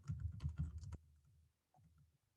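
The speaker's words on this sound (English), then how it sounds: "I'm typing this in the chat" Computer keyboard typing, a quick run of clicky keystrokes for about a second, then stopping, with only faint low room noise afterward.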